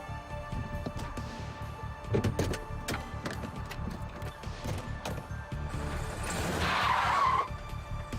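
A stolen car tears away at speed, tires skidding and squealing on pavement, rising to a loud screech near the end over a rumbling engine and background noise.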